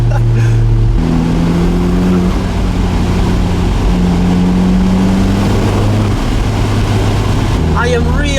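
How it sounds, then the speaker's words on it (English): Alfa Romeo 4C Spider driven with closed exhaust valves, its engine droning loudly and steadily with shifting pitch and faint turbo whistle, a person talking over the cabin noise. "can you hear these turbo noises?"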